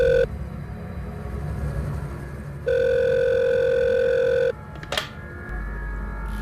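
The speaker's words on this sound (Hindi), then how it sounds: "आपके फोन।" A telephone rings in a Bhojpuri horror drama scene, with two steady electronic ring bursts separated by a short pause over a low background hum and a brief click near the end.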